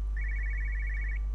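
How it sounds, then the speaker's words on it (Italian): A telephone rings in the video game Everybody's Gone to the Rapture, a single continuous trilling electronic bell burst lasting about a second over a low steady hum. "Telefono dov'è?"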